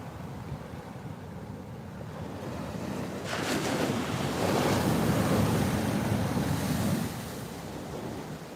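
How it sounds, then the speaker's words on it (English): Ocean surf breaks on a beach, a steady roar that swells into a louder rushing crash partway through before easing back, heard outdoors with wind buffeting the microphone. "There's some really cool waves ripping from over here."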